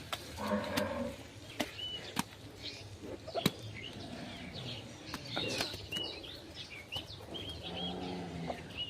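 Native deshi cattle at a Qurbani livestock market low repeatedly in the mid-distance amid a busy outdoor din, with birds chirping and faint crowd noise throughout.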